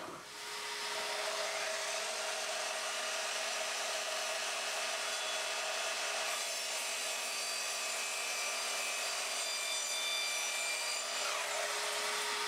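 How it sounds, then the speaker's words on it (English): An Evolution Rage 3DB multipurpose mitre saw makes a bevel cut through timber, giving a steady, high motor whine with cutting noise for about ten seconds before it winds down. "So I'm now going to do a bevel cut in this piece of timber."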